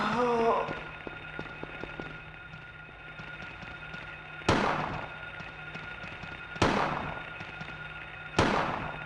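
Three sharp, loud gunshot blasts at spaced intervals in the 1999 game Silent Hill, each ringing out over low background hum, with a brief burst of talk at the start.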